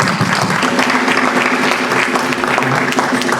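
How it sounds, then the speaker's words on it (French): Church congregation clapping and applauding for Jesus at the close of a Sunday service, steady dense applause with a few voices mixed in. "Acclame pour Jésus."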